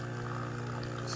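Jura Z10 coffee machine running its milk-system cleaning cycle, releasing hot water through the tube: a steady, close pumping hum with liquid pouring and bubbling throughout, no pauses.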